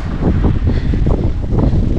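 Strong wind buffets the microphone in loud, gusty rumbles that swell and fade over a couple of seconds, close and continuous.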